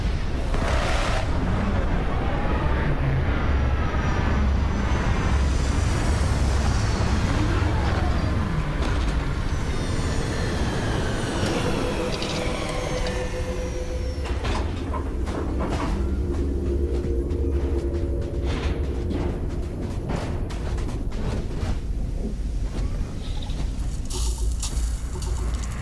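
Spaceship landing in Starfield, a long heavy rumble with mechanical whirs, hisses and clunks building and settling as the craft touches down, loud and continuous.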